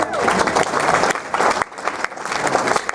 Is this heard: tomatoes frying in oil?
no